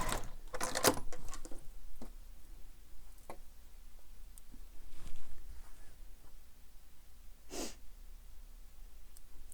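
A home sewing machine bastes the layers of a fabric wallet, its needle running in short bursts between pauses with scattered clicks and handling noises, fairly quiet and close, with no talking.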